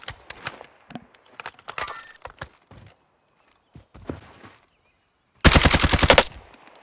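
Gunfire in a shooter video game: scattered single shots and footstep-like clicks, then a loud rapid automatic burst lasting about a second near the end.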